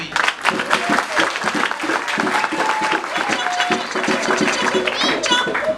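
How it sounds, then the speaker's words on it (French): Applause from an audience at a talk, a dense, steady wash of clapping that runs for the whole stretch, with voices and a few whoops mixed in. "vous pouvez applaudir, oui"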